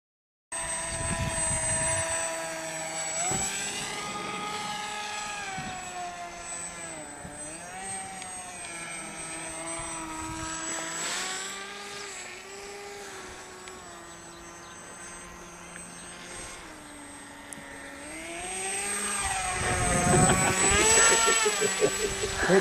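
An AXN Floater radio-controlled model airplane flies overhead, its propeller giving a steady buzzing drone that rises and falls in pitch as it passes, swelling louder near the end, with people talking over it.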